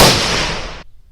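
A single loud, close .308 rifle shot fired with Hornady Superperformance ammunition at an outdoor range, a sharp blast with a brief decaying tail that cuts off abruptly.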